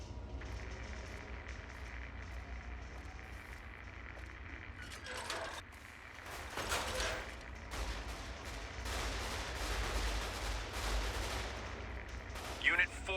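Gunfire from snipers and battle in Fallout New Vegas crackles over a low rumbling game backdrop, with scattered shots and bursts, some distant and some closer, and a sharp report near the end.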